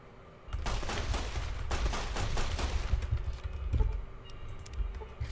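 Rapid volleys of gunfire tear through the Vicky and Vance casino in a video game, dense cracking bursts starting after a brief quiet and continuing loud and steady with no talking.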